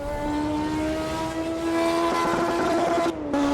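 A turbocharged Formula 1 car engine in the Automobilista 2 racing game holds a loud, sustained, buzzing whine with steady harmonic pitch and a brief dip near the end, with no voices over it.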